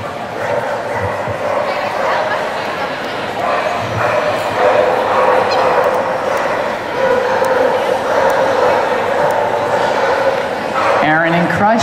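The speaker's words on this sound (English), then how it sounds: "This is Mach 2 Crush, an All-American dog" A dog barks and yips repeatedly, fairly near, amid a crowd during an agility run at the AKC Invitational finals, under a steady announcer-style voice talking throughout.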